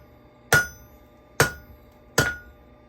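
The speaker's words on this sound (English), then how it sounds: "when you hit the anvil, it bounces up really high" A blacksmith's hammer strikes the anvil three times in a blacksmith shop, each a sharp, bright ringing clang with a short decay, spaced under a second apart in an otherwise quiet room.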